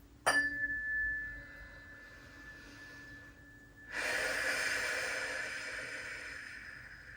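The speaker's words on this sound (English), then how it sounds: "go ahead and take a deep breath in and breathe out" A slow, deep breath, with a sharp intake near the start, a long quiet hold, then a fuller airy exhale that lasts to the end. It is close and soft, and no one speaks.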